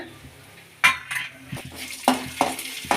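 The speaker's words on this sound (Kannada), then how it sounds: "ಎಣ್ಣೆಲೆ ಫ್ರೈ ಮಾಡ್ಕೊಳ್ಳೋಣ ಧನಿಯಾ ಕಡಲೆಕಾಯಿ ಬೀಜ ಎಲ್ಲ ಚೆನ್ನಾಗಿ ಫ್ರೈ ಮಾಡ್ಕೊಳ್ಳೋಣ" Urad dal, coriander seeds and peanuts fry in oil in a pan while a metal spoon stirs them. Several sharp clinks and scrapes sound close over a soft, steady sizzle.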